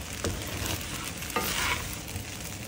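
Young chow fried rice tossed and stir-fried in a single pot, giving a loud, continuous sizzle with a few sharp scraping strokes, close up and without any voices.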